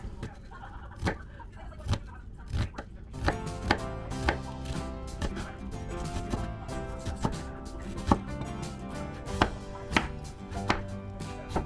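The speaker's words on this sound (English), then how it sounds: "Now I'm going to chop everything up finely" A knife chops steadily on a cutting board, sharp regular taps close by, with a low hum running beneath the rhythm.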